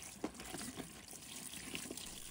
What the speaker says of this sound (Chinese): 打开水龙头，让清水细细地冲洗腐竹